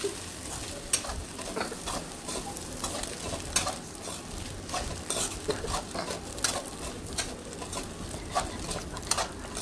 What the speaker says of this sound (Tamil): இடியாப்பத்தை போட்டுக்கணும் போட்டு நல்லா வதக்கணும்